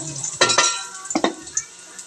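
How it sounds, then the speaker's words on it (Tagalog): Ginger sautéing in a pan for a mussel dish, with soft frying hiss broken by two bursts of stirring and utensil scrapes against the pan. "magisa-gisa tayo. Luya."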